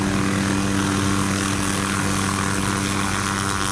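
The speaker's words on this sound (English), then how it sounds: "Have you ever seen a helicopter cutting trees before?" An MD-500 helicopter cutting trees gives off a loud, steady, close rotor and engine drone with a rough whirring texture that holds constant throughout.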